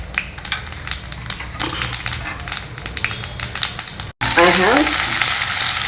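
Mustard and cumin seeds crackle and pop in hot oil in a pan, giving a busy spattering sizzle that breaks off briefly and returns as a louder, steady fry. A voice speaks a couple of words.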